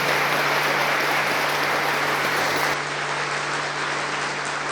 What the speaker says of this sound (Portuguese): Então dê uma bela salva de palmas para o Senhor Jesus.